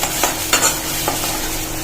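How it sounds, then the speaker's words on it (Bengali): Boiled bamboo shoot poured into spices frying in a pan and stirred, giving a steady close-up sizzle with a few soft scraping and stirring scuffs, no voices. "এখন আমি বাঁশকুড়োলটা ঢেলে দিচ্ছি একটু সেদ্ধ করা।"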